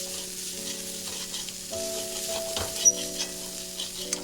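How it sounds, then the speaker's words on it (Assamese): Masoor dal sizzling and frying steadily in a hot pan for a village-style recipe, a continuous crackling hiss with a few louder pops, no voices. "এতিয়া মই গৰম পানী গৰম কৰি থৈছোঁ, ইয়াতে মই এতিয়া গৰম পানী দিম"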